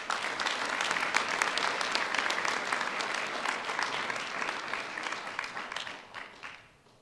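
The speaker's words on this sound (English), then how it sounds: "Let's give them another round of applause." Audience applause at a police department award ceremony, a steady, dense wash of many hands clapping at close range that holds for several seconds and then tapers off at the end.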